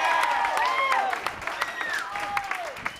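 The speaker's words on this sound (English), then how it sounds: "Please hold your applause." Steady applause from wedding guests fills the stretch during a best man's speech, with scattered sharper claps standing out and a voice audible over the clapping.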